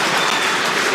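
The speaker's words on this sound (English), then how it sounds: "I have a feeling the crowd is about to go wild." A crowd applauds and cheers during a SpaceX launch broadcast, a loud, dense wash of clapping that holds steady for the whole second with no break.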